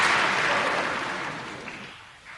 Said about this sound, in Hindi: मैं बोला लोग इस बात में तालियां बजा लेंगे,